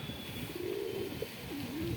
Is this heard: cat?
no